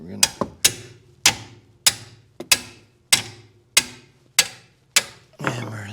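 Hammer blows on a seized, Loctited brake part of an SL500 6.0 AMG, about ten sharp metallic strikes in an uneven rhythm, close and loud, with a mechanical rattle at the end.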